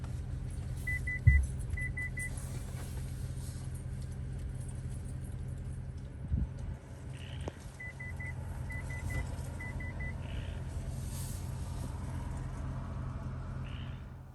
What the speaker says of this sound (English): it starts beeping at you if there's a car or a pedestrian or a dog or a bicyclist coming